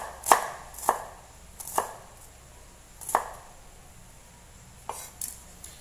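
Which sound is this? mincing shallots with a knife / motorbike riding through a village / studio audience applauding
mincing shallots with a knife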